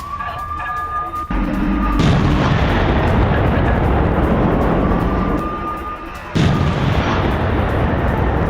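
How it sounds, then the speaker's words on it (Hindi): Rocket strikes hit a Russian tank in a Ukrainian attack, producing loud, sustained explosive blasts and heavy rumbling that build into a continuous roar with sharp cracks, close and dominant throughout. "यूक्रेन ने रॉकेट से रूसी टैंक को निशाना बनाया है।"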